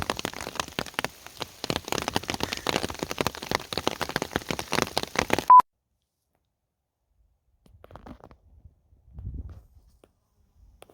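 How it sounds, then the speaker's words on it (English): Dense rain patters steadily for several seconds on a cold, windy stretch of the Colorado Trail, then stops abruptly, leaving near silence with a few faint bumps and rustles. "The rain's forcing us to leave."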